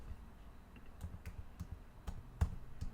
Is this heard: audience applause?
no